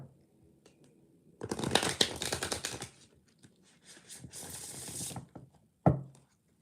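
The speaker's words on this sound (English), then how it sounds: "I'm just going to shuffle one more deck" A deck of playing cards being shuffled in two bursts of rapid riffling flutter, close and clear, with a brief sharp snap near the end and quiet pauses between.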